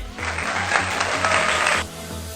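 A classroom group applauds together in a dense burst of clapping lasting under two seconds before cutting off, fairly close, with a faint low hum under it and afterward.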